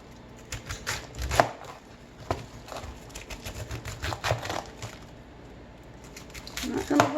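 A knife chops through a tender cabbage on a board, a run of crisp, irregular cuts with a few sharper knocks, close and moderately loud, with faint background noise between strokes.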